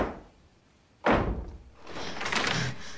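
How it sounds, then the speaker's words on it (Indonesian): Knocks from inside a wardrobe in a dark supernatural horror film: a sudden heavy wooden thud after quiet, then a swelling tense rumble and rising ominous sound. "Setelah berhasil menyadarkan Cindy, Andrea tiba-tiba mendengar suara ketukan dari dalam lemarinya itu"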